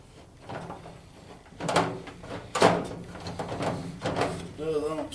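A drawer is pulled out in a workshop, giving several scraping, knocking slides and bumps of moderate loudness, mixed with someone talking.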